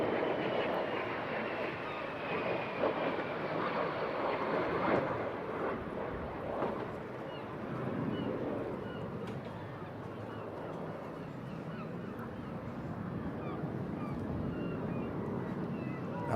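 A Norwegian Vampire jet flies at the Eastbourne airshow, a steady distant engine roar rising and falling at moderate loudness across the open air.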